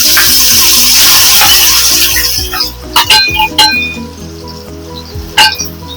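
Banana pieces dropped into hot oil in a pan for rava sheera, giving a loud, steady sizzle up close, followed by sharp metallic clinks and clangs of a utensil against the pan.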